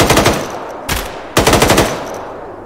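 Machine gun fire in the video game ArmA 3, loud close bursts of rapid automatic shots in three separate strings with brief pauses between them, alone without talk.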